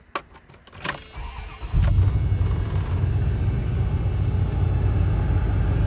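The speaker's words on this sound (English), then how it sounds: "Turn the car on." A 1990s second-generation Dodge Ram pickup's engine cranks and fires up after a few clicks and a brief electric whir, then settles into a steady, close, low idle rumble with no talking.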